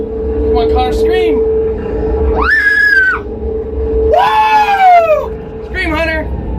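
Child on an amusement park ride at Gilroy Gardens, with several rising, sustained high screams and yells over a constant mechanical ride rumble, plus other voices nearby.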